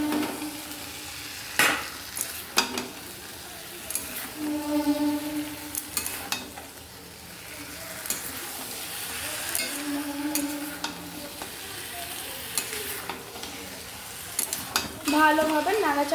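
Potatoes frying in a pan for crab curry, a continuous sizzle broken by several sharp spoon clanks and scraping stirs against the pan, with a voice speaking briefly over it.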